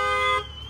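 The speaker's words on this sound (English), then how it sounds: "I'm gonna go ahead and bang in this window to set off the alarm as well." A car alarm blares loud and close with a steady electronic tone, triggered by banging on the vehicle's window, then cuts back to a thinner lingering tone partway through.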